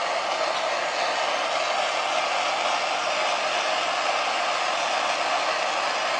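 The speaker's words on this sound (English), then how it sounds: "we're using MAP gas again as our heat source" A MAP gas torch flame heating zirconium metal for a spinning top, a loud, steady, close roar of broadband hiss that holds unchanged throughout with no talk.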